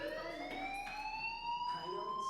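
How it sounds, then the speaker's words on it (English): Fire alarm ringing in the video game Life Is Strange, a steady electronic wail with a rising tone, continuous and prominent throughout, with faint game ambience behind it. "do you hear that fire alarm? That means you should be outside."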